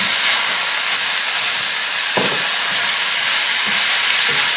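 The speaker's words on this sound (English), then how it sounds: "all we're going to do is sauté this down now" Leeks sauté in a pan with a loud, dense, unbroken hiss of frying that holds steady throughout, with one or two faint utensil knocks close by.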